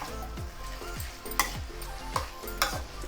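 Chilli chicken mixture being stirred in a hot pan, with a steady sizzle and repeated scraping strokes of the spoon roughly every half second, plus a few sharper clinks against the pan; no talking.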